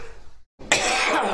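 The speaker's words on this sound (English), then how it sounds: "can't do anything without a cough" A single person coughs in a sudden, loud burst that starts after a short silence and stays forceful to the end, rasping and close up.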